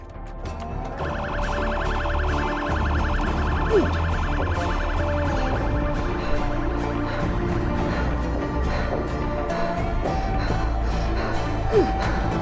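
A siren wails in the zombie survival game Project Zomboid, rising and falling loudly and continuously for about twelve seconds over a dense background of other game noise.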